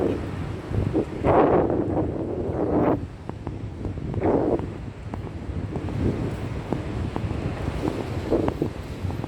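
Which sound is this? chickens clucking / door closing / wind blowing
wind blowing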